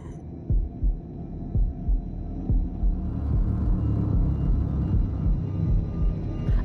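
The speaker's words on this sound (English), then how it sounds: "That's a heartbeat." A low, thudding heartbeat pulses steadily in the video game Shadow of the Tomb Raider, repeating roughly every second over a droning, rumbling hum, loud and close with no talking.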